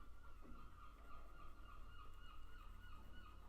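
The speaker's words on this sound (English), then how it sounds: "And there go the seagulls." Seagulls call in a steady, overlapping chorus, their harsh, honking cries carrying at a middle distance over a constant low background rumble.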